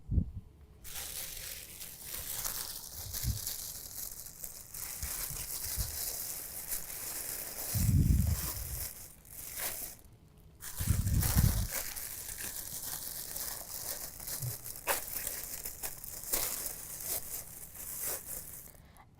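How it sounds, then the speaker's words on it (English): A plastic bag crinkles and rustles as it is wrapped and tied around a plant leaf, with soft intermittent crumpling and a few louder bursts of handling close by, no talking. "tie a plastic bag around a leaf on each plant"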